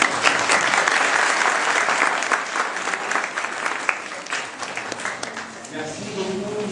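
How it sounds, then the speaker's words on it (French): Warm audience applause at a French-language scouting event in Mauritania, with full, dense clapping that thins into scattered claps toward the end as a voice starts to speak over it. "on peut encore applaudir notre ami"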